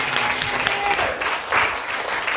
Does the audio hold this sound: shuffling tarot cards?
no